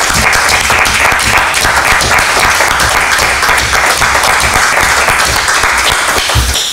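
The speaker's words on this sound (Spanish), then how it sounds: "Hala, pues venga, un aplauso." Sustained, loud applause fills a municipal council meeting in Orkoien, a room full of people clapping steadily and densely for the whole stretch without letting up, with no talk over it.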